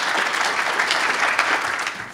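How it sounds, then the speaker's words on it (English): An audience at a festival of words awards event breaks into dense, sustained applause, many hands clapping together in a loud, continuous wash that fades slightly at the end. "Let's give Reverend Will Hill another round of applause"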